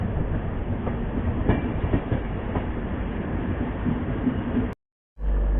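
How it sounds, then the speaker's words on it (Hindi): The Kaifiyat Express passes close by on Indian railway tracks in monsoon weather, a loud continuous rumble and wheel clatter that stops abruptly near the end, then resumes briefly. "और वो रहा कैफियत एक्सप्रेस।"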